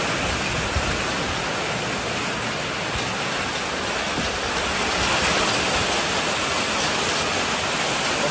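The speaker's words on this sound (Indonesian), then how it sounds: "Okey, hujan." Rain falls steadily outdoors during a solar spotlight installation, a dense even hiss that fills the whole stretch with no speech.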